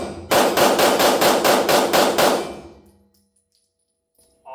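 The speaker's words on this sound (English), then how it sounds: "I'm gonna shoot these last 10 rounds kind of as fast as I can" A Laugo Arms Alien pistol is fired rapidly, eight or nine loud, sharp shots in quick even succession, with the last report fading into a short ringing tail and then near silence.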